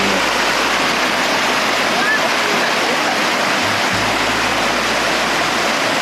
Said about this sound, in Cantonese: 少少嘅瀑布